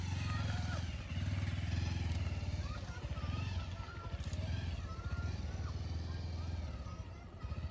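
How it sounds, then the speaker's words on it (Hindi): Motorcycle engine running steadily close by as the bike is worked out of deep mud, with a low throbbing rumble and clatter throughout. "लेकिन बाइक को निकाल के देखते हैं कितना दिक्कत होता है।"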